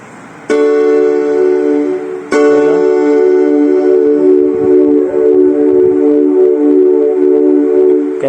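Keyboard synth pad programmed for worship music, a sustained chord that swells in at once, restrikes and then holds steady as a warm, dense drone with no voices.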